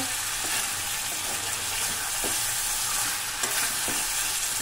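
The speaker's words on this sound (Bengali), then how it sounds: "2 থেকে 3 মিনিট এইভাবে ভালো করে কষিয়ে নেব।" Masala for a chicken curry with new potatoes is stirred and sautéed in oil in a pan, giving a steady close sizzle with scraping stirs at irregular intervals.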